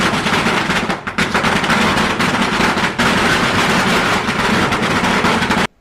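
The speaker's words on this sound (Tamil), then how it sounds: "பட்டாசு பத்தியா எந்த அளவுக்கு வெடித்து தூள் கலப்புறாங்க" Dense, continuous crackling bursts of firecrackers set off by supporters, going off rapidly and loudly, a nonstop rattling barrage that cuts out abruptly at the end.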